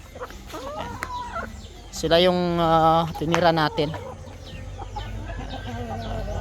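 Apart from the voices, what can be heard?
Brazilian Ganoy chickens clucking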